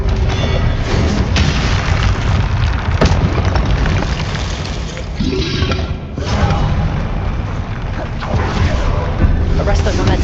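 Continuous loud booms and bursts from Expelliarmus and other combat spells in Hogwarts Legacy, with a steady rumbling bed of impacts and sharp pops throughout, and a voice talking over the fight.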